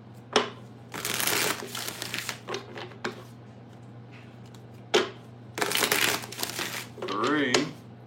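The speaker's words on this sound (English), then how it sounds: "Let's get 6 shuffles." Tarot cards are shuffled in several quick crisp bursts of riffling and crinkling, separated by pauses, close to the listener.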